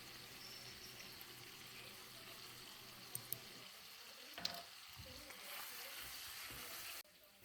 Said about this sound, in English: you're going to stir that up in the hamburger